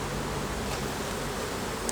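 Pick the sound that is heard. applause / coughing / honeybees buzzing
honeybees buzzing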